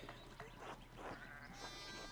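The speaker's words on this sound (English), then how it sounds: "Oh, there's far too many sheep." Sheep bleat in the Pentiment video game, several calls overlapping against a steady background hum at moderate loudness, with no talking.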